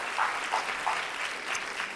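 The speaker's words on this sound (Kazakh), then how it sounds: "Сонымен қошеметтеріңіз, шапалақтарыңыз бастаймыз." An audience claps through a Kazakh stage show, giving steady, fairly loud, continuous applause with no voices over it.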